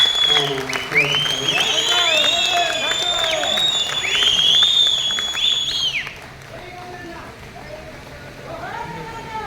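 Audience applause with whistles and cheering for Dr. Vennela Gaddar on stage, a loud, sustained crowd sound that swells through the first six seconds and then drops to a softer murmur.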